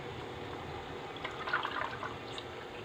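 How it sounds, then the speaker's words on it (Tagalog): Fish soup with kangkong bubbles and simmers in a pot, a soft continuous burbling hiss with small popping bursts. "Ayan, kumukulo na siya. Ayan, kumukulo na yung ano natin."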